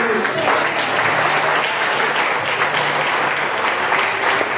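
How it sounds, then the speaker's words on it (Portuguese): A church congregation applauds loudly and continuously, a thick wash of clapping that carries on throughout while a preacher's voice rises over it. "Aplaude o Senhor Jesus."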